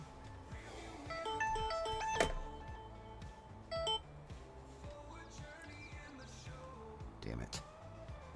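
A phone ringing in the background of a Farming Simulator 22 session, repeated electronic tone patterns and beeps mixed with game music and sounds, fairly quiet overall, with someone talking.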